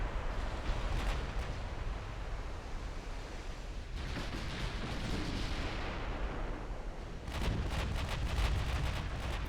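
Naval gunfire in the Ultimate Admiral Dreadnoughts warship game, 1926 England versus Norway battle: a continuous roar of rumbling cannon fire and explosions with clustered volleys of sharp booms, loud and dense throughout.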